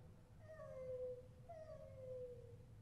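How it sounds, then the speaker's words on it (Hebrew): Cats howl in a neighbors' yard at night, two drawn-out, falling yowls about a second apart, faint and set against a low steady hum. "חתולים מייללים בחצר של השכנים."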